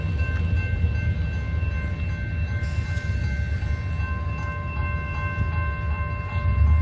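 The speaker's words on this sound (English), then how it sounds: "there goes a rock train" A rock train rolls past at a steady, continuous rumble, its deep low-end roar and faint tonal ringing filling the scene evenly throughout, with no voices.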